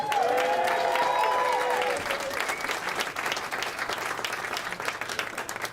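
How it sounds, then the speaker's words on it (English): Campaign crowd applauding at a celebration after a US House special election in Virginia, steady dense clapping throughout, with a few tonal voice-like cries early on and a noisy room wash beneath. "Give them another round of applause."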